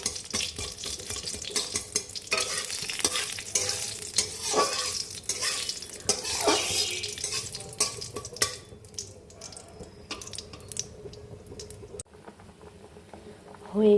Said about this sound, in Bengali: আমার কিচেন গার্ডেন থেকে তুলে আনা কারি পাতা আর মেথি ফোড়ন দিলাম